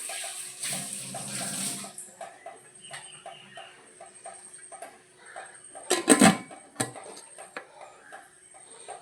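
Two cups of water are poured onto washed green gram for cooking, giving a short splashing pour at the start and another brief burst later against quiet clinks.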